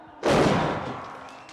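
A single loud firework burst from a scene in the 1974 film The Godfather Part II, a sharp boom followed by a long, fading crackle and rumble with no talk.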